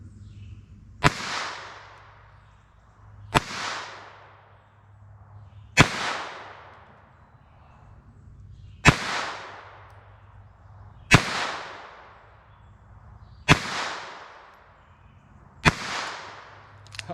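Seven sharp .22 LR pistol shots with Aguila 60 gr Sniper Subsonic ammunition crack out at a slow, fairly even pace outdoors, each a loud snap followed by a short fading echo.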